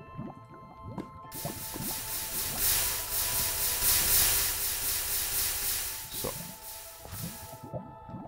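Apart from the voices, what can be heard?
water bucket poured onto lava in Minecraft video game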